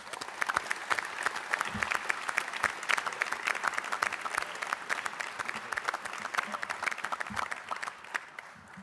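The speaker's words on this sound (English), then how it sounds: "Let's give these youngsters a round of applause." Steady applause at a Detroit Pistons press conference introducing young players, a dense roomful of clapping held evenly for several seconds with faint voices underneath.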